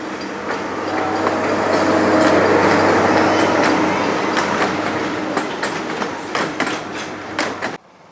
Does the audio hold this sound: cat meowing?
no